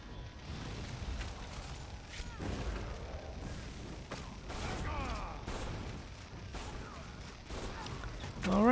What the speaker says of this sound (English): Also get out of the way of their siege cannon.